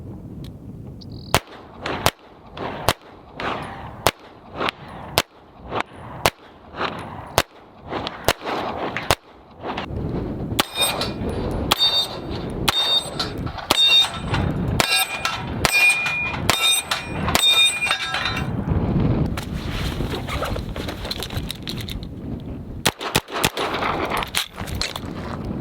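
A New Frontier Armory C5-PDW fired from the hip with a laser: a long, irregular string of loud, sharp reports with no talking, and metallic pings ringing through the middle stretch.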